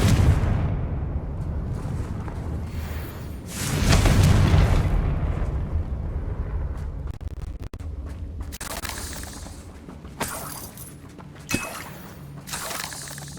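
Confringo spell explosions in the video game Hogwarts Legacy go off as several loud booming blasts, a big one early and more bursts toward the end over steady in-game background noise.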